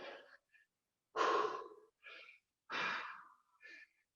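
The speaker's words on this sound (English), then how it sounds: "Sorry for my heavy breathing." Heavy breathing after a plank knee-to-elbow exercise in a squash fitness workout, heard as several loud, close, labored breaths in a halting rhythm, some sharp gasping inhales and breathy exhales, with no talk.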